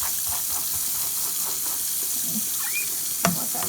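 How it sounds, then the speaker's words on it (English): Tap water runs in a steady, even hiss while a dusty vintage Madame Alexander Huggums doll is washed, with no talking over it. "Let that water run."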